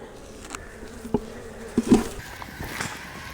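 Honey bees hum and drone at close range around a nucleus hive, fanning at the entrance, with a few sharper buzzes as individual insects fly past.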